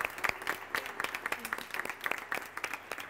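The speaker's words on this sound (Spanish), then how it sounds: "Un aplauso a ambos." An audience at a televised forum bursts into applause, a steady run of many hands clapping with a fairly dense, even rhythm, moderately loud and sustained throughout without voices.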